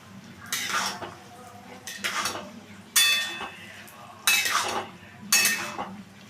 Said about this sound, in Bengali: দিয়ে আমি ভালো করে এটার সাথে মিশিয়ে নিচ্ছি।